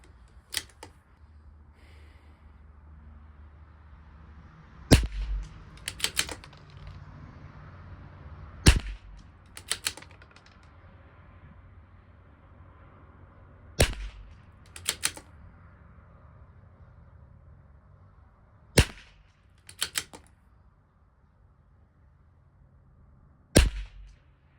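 A CZ457 LRP rifle fires single shots at targets 100 yards away, sharp isolated cracks spaced several seconds apart, some in quick pairs, against a quiet outdoor background.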